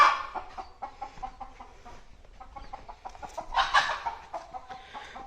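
Chickens cluck and squawk at a poultry shed on a rural farm house near Tindivanam, with irregular overlapping calls close by and a louder burst near the end, with no talking.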